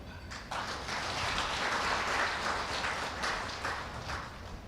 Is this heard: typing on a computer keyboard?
no